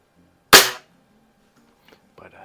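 A single sharp crack from a spring air rifle, a Daisy 99B or Anschutz 335, fired close by, decaying quickly with a faint springy twang, followed by small mechanical clicks and handling noises.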